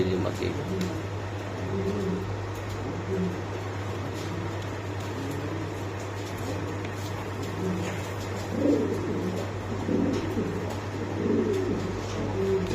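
Pigeons coo in soft, repeated bursts at a crowded pigeon market, heard under steady talk from people nearby along with a constant low hum.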